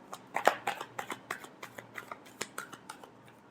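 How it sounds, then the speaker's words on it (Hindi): A deck of tarot cards being shuffled by hand, a rapid series of crisp riffling snaps and flicks close up, with no talking. "last shuffle"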